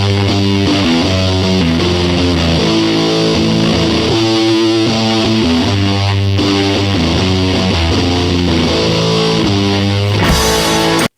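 A heavily distorted electric guitar riff plays loud and continuous, with chunky repeating chords and a driving rhythm that cuts off abruptly at the end.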